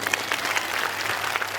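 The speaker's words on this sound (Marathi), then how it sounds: "तुम्हाला यांचं गाणं आवडलं असेल तर टाळ्या वाजवा बरं" Audience at a Home Minister village stage show in Bahal, Chalisgaon, clapping after a song; dense, steady applause from a crowd, moderately loud with no voices on top.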